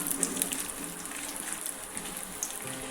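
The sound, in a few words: dry fruits frying in hot ghee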